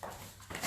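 A dog gives a brief, faint whimper and soft yip, heard close by but quiet.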